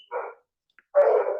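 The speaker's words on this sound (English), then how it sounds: "Can we stop because my dogs are going crazy?" Dogs barking indoors: two loud, close bursts of barking split by a short silence, with no one talking.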